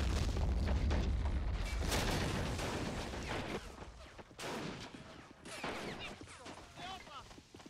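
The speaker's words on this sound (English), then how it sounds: "What's that? Mortar." Mortar fire in the World War II tank game Men of War Assault Squad 2, heavy rumbling booms and distant explosions rolling under scattered gunfire, with someone talking over the battle noise.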